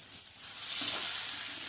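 Okra being sautéed in a pan gives a close, steady sizzle that swells slightly partway through, with light stirring and no voices.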